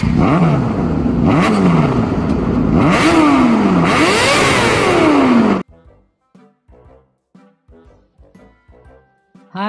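A motorbike engine revs hard and loud for about five seconds in repeated rising and falling bursts, then cuts off abruptly, leaving short faint sounds in near silence.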